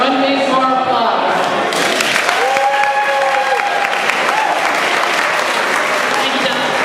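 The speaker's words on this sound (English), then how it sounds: "One big more applause." Steady, loud applause from a crowd at a district awards lunch, continuous clapping throughout with a few voices and musical tones rising above it.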